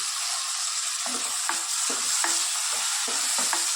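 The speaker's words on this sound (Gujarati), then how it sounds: "ચાલો એમાં સાથે આપણે ટામેટાં પણ નાખી દઈએ" Chopped tomatoes go into dried onions frying in a pan, producing a constant hiss of sizzling oil broken by regular scraping stirs about every half second, close and clear with no talking.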